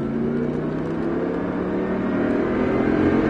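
Engine of a sports car (Audi, Lamborghini or Mustang) accelerating on the Folembray circuit during a driving course, a steady loud droning roar rising slightly in pitch, close and continuous, with no voices.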